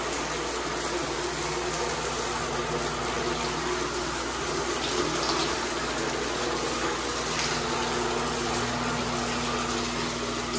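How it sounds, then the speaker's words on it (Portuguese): A shower runs for a bath at home, a steady loud gush of water with a low motor-like hum underneath, continuous and close. "Bora ligar o chuveiro."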